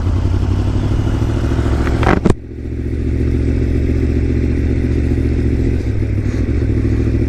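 A Yamaha MT10 motorcycle on the move, a loud continuous engine drone with road and wind rush and a sharp clatter partway through, steady throughout.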